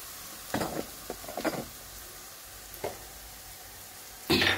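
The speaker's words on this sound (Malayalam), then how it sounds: "ഇനി നമുക്ക് തക്കാളി ഇട്ട് കൊടുക്കാം." Tomatoes tipped into hot oil and stirred for a Thalassery fish biryani: a few quiet scraping, sizzling bursts in the first seconds, then a louder sizzle as more goes into the pan near the end.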